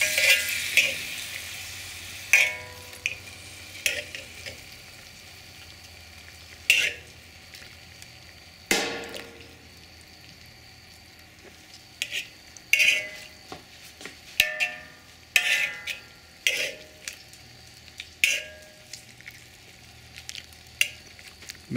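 Latin-style pork cracklings (chicharrón) frying in grease under a lid, a quiet steady sizzle broken by frequent sharp pops at irregular intervals, some close and loud.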